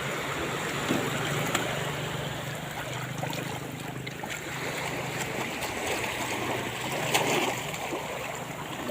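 A river with a strong current, a steady rushing and gurgling water sound close by, continuous and even throughout with a few faint clicks.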